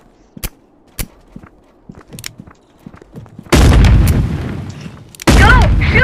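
Video game gunfire: several separate sharp shots ring out first, then heavy, sustained blasts of RPG fire roar loudly and fill the rest of the moment.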